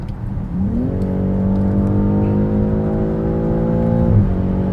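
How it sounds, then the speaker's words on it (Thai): A BMW X6 40i M Sport's inline six-cylinder engine with M Sport exhaust revs up smoothly and loudly, its pitch climbing steadily for several seconds before easing off, close and continuous with no talking. "ส่วนเสียงเครื่อง อันนี้เหมือนพยายามใส่เข้ามาให้ เร้าใจ6สูบแล้วก็ท่อเป็นตัว M Sport ด้วยนะครับ"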